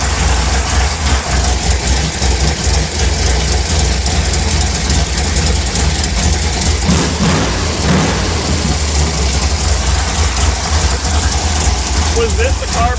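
A 1955 Chevy engine idling after carburetor tuning, a loud steady low rumble running continuously close by with a faint higher whine, people talking faintly over it.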